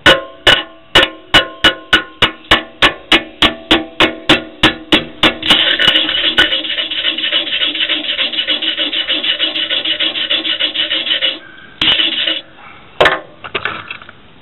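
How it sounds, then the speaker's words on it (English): Chipping hammer knocking slag off a freshly welded joint: a fast series of sharp metallic taps, then continuous scraping and brushing, with a few final knocks near the end, close and loud. "We're going to chip off the slag and see what we got."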